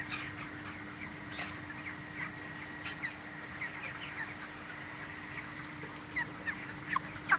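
Chickens on a poultry farm in Cox's Bazar, stressed by extreme heat, make faint, scattered clucks and calls over a steady low hum, with a few louder squawks toward the end.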